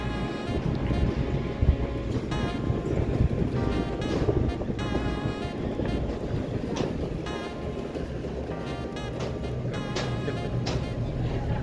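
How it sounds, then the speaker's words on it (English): CityCat ferry on the Brisbane River, a steady loud rumble of engine and rushing water with wind buffeting the microphone throughout, and a faint voice or two in the background. "We are just getting onto this boat on the Brisbane River."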